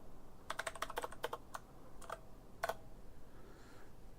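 Quiet clicks of a computer keyboard come in a quick burst of keystrokes, then a few slower taps over faint background hiss.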